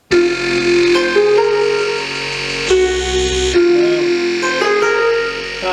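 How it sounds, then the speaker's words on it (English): A bright, buzzy synthesizer lead plays a steady melodic line alone, notes gliding smoothly from one to the next with a sustained, continuous tone. "you have this lead, like this kind of like this synth underneath of it"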